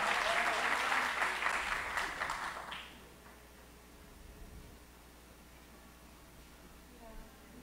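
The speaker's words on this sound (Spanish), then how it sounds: "¡Un aplauso!" Audience at a urology symposium claps in a short burst of applause that fades out after about three seconds, leaving quiet room tone.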